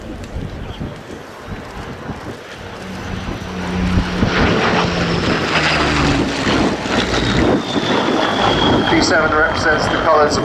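Battle of Britain Memorial Flight Hurricane or Spitfire in 41 Squadron colours at an airshow, its piston engine and propeller droning in from a distance, swelling louder as it passes, with a commentator's voice over the top.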